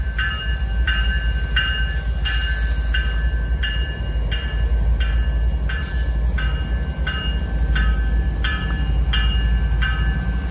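A CP train rolls by steadily through Dorval station in Montreal with a continuous low rumble, and regular clicking beats repeat about every second, like wheels over rail joints.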